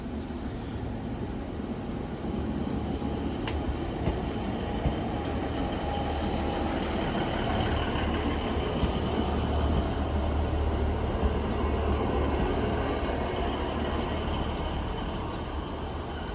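A Great Western Railway diesel train pulls into St Erth station in Cornwall from St Ives, giving a steady low engine rumble and rolling noise that holds at a constant level throughout, with no talking.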